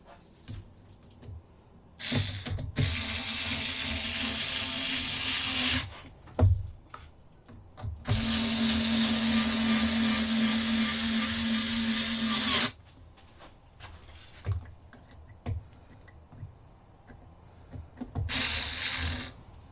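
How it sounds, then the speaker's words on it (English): A power drill drives screws into the sides of a reusable mold in three bursts of whining motor noise, the longest in the middle, close and clear with quiet handling sounds between. "I just end up screwing in the sides first, or the long sides first"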